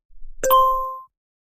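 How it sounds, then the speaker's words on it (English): A field service app sounds its incoming-call alert: a single clear, bright electronic ding with a short tinkling lead-in, ringing out briefly and then stopping cleanly into silence. "When you receive a call, there will be an audible noise,"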